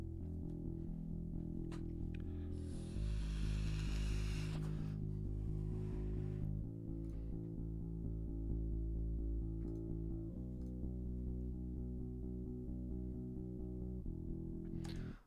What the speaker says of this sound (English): this here is my bass guitar.